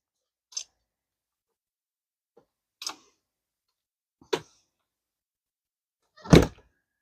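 An RV entry door fitted with an upgraded deadbolt lock and strike plate shuts four times, each a separate thunk or latch click with long silent gaps between, the last close the loudest and heaviest.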